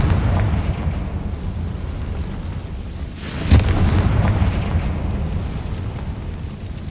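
A Confringo explosion spell goes off in Hogwarts Legacy, a single deep boom with a sharp burst near the midpoint, set against low rumbling game ambience, with no talking.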